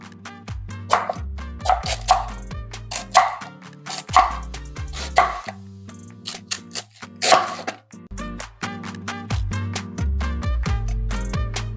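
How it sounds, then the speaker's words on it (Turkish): A knife chops cabbage on a cutting board in a home kitchen while making minced-meat cabbage börek, giving sharp, irregular chops in quick bursts, close up and fairly quiet. "Lahanamı doğrayarak başlayacağım."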